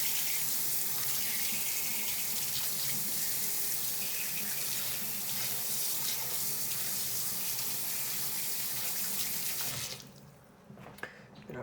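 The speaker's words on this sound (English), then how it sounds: "I really make sure that I rinse it out real well so I don't cross-contaminate between the two." Kitchen tap runs steadily while a scoop is rinsed out, a loud continuous splashing stream that stops near the end, leaving a few faint clinks.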